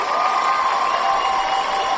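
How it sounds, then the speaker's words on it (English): Canned crowd cheering sound effect, a dense continuous roar of many voices and whoops held at steady loudness with no speech on top. "Oh, wow. We got cheering."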